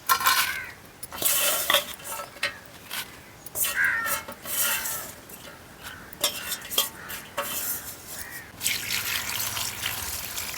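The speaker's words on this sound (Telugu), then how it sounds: "ఇప్పుడు దీని రెండు సార్లు కడుగుతాను" Leafy greens are swished and stirred by hand in a vessel of water in a village kitchen, giving close sloshing, splashing and dripping in uneven bursts, with no one talking.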